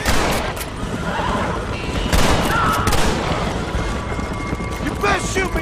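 Gunfire in Red Dead Redemption, scattered sharp shots amid a busy noisy mix with horse sounds, while characters shout over the action.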